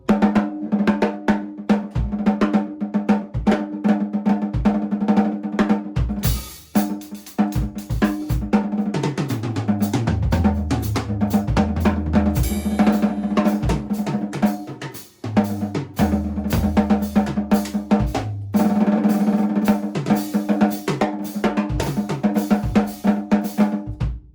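A drum kit plays a groove, with a snare drum played with its snare wires off giving a deep, hollow tom-like hit repeatedly in bursts alongside cymbals, loud and close, with no voices.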